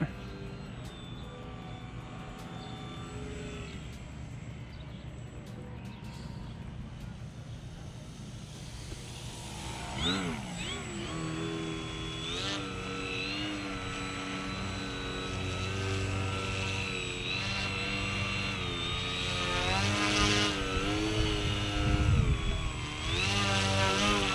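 The electric motor of a small foam Edge 540 RC plane whines steadily while it hovers outdoors. Its pitch wavers and climbs as the throttle changes, and a voice is heard faintly at times.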